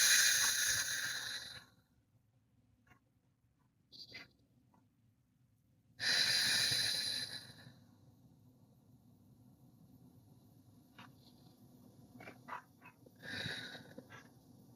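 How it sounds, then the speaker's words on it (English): Two long, deep breaths during a guided meditation, each a loud, close, airy rush lasting more than a second, separated by quiet stretches with faint small noises. "Let's take a few deep breaths."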